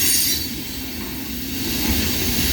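A CSX mixed freight train with boxcars rolls slowly past at night, a steady close rumble of wheels and cars on the rails with faint squeals, continuous and without talk.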